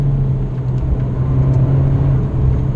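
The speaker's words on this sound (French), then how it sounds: "L'échappement fait un bruit d'enfer, on l'entend plus de l'extérieur malheureusement" Abarth 595 Competizione with a small 1.4-litre turbocharged engine, heard from inside the car as a steady, loud, low exhaust rumble and drone while driving, with no talk.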